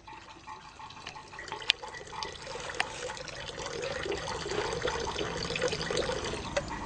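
Lime water poured into an organic fertilizer mixture, a steady close splashing trickle with scattered drips that grows slightly fuller toward the end, with no talking.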